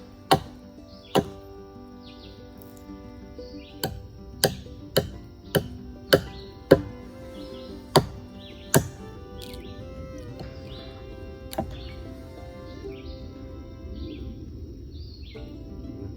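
Sharp wooden chops strike at irregular intervals, around a dozen blows, clear and fairly close, with faint birdsong and quiet ambience between them.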